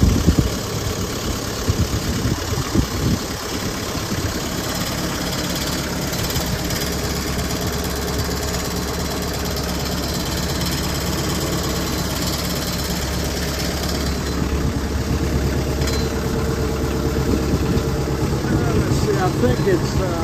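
A Kubota M59 tractor with a bucket fitted idles steadily nearby, a constant low rumble with a slight knocking rhythm running throughout, while someone talks over it.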